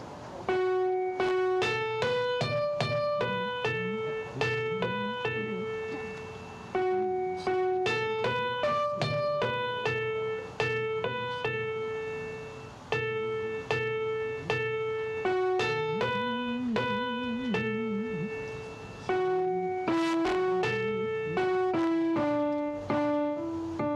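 Hymn tune 'Faith is a Forest' played through once on a keyboard instrument, clear sustained chords and melody notes in a steady rhythm with short breaks between phrases, close and alone.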